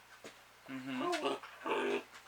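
A young puppy gives soft, quiet whimpers in a few short, wavering whines, close by in a calm indoor setting.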